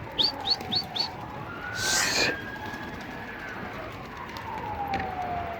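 Tumbler pigeons flying overhead give a few quick chirps and a short flutter of wings, faint and distant, while a long siren-like tone drifts underneath.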